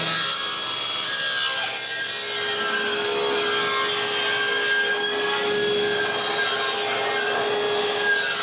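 Wood is sawn into parts for a nine-drawer dresser, giving a steady, continuous rasping cut with a sustained whine that stays even and loud throughout with no pauses.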